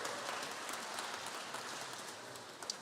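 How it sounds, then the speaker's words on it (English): An audience at a charity dinner in Brisbane gives sustained applause, a dense, even crackle of many hands clapping at moderate distance with no voices over it. "Give her another clap."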